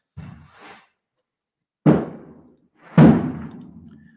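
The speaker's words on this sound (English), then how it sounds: "I think it's just across the street there must be some sort of fireworks show going on, but it's very loud" Fireworks show just across the street: three separate booming thuds, the first softer and the last two loud and heavy, each trailing off briefly, with quiet gaps between.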